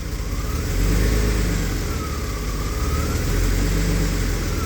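Jaguar AJ30 V8 engine idling unevenly with its variable valve timing switched off, a loud close steady rumble that swells and dips slightly in speed.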